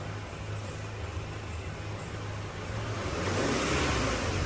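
A Peugeot 407 SW engine idling, then revved as the throttle is pressed, with the broadband roar swelling toward the end and holding steady, close by in a workshop.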